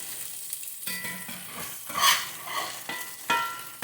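Just-flipped Salisbury steak patties sputter in a hot frying pan, an irregular close sizzle punctuated by sharp spatula scrapes and bursts of louder spitting, with no voices.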